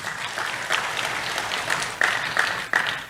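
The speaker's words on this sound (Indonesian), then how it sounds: "Tepuk tangan buat Tuhan Yesus" Church congregation clapping during a sermon, an even, full round of applause lasting a few seconds, with occasional louder voices calling out above it.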